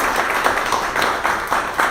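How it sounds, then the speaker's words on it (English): Audience applause at a Popcorn Challenges event in Eustis, a steady wash of many hands clapping, fairly loud and close, with no talk over it. "let's give them a big round of applause for being here for the first time"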